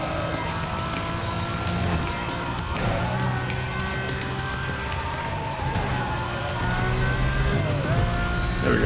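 Supercars race in Need For Speed Most Wanted (2005), with sustained engine drone and whining gear tones rising and falling, plus sweeping pass-bys under a steady game mix.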